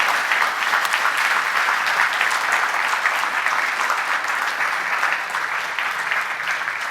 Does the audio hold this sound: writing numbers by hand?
no